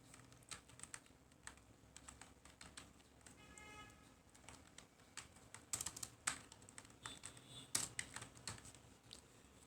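Rapid keys tapped on a computer keyboard while an email address is entered, an irregular patter of close, crisp clicks throughout with a few louder keystrokes near the end.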